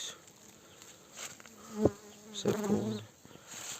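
Bees hum steadily inside a full ten-frame hive, a soft continuous buzz with a couple of louder close passes, no talk.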